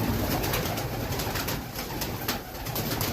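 Pigeons coo close by in a loft, giving soft low repeated calls over a broad steady background hiss, with no talking.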